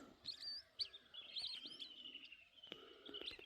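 Weaver birds near a lotus pond at Vattakachchi give bright, fairly close chirps and twittering calls in quick bursts over faint background noise, with no voices.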